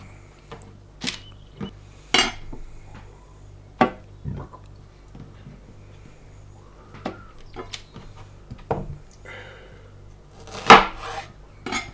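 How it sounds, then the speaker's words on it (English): Sharp knife quartering two peeled red onions on a chopping board, a handful of separate crisp cuts and knocks spaced irregularly, close and moderately loud over a quiet low hum, with no talking. "So we've got 2 peeled red onions here, which we want to quarter."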